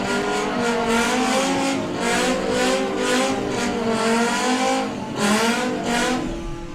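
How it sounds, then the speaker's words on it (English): An electric Beetle and a normally aspirated VW Golf convertible race on the drag strip at Santa Pod, with loud, continuous engine roar, pulsing revs and tyre noise across the run. "The Electric Beetle. And the normally aspirated VW Golf convertible."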